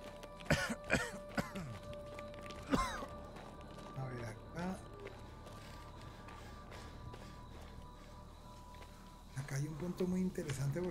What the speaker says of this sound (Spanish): Esas cosas me hacen toser.